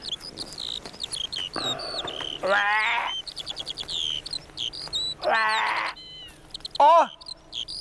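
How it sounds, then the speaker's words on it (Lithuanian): Several short, bright partridge calls and clicking chirps scattered over a few seconds, with brief snatches of talk in between and a raspy bleat-like call. "ką tik kurapka suklikė"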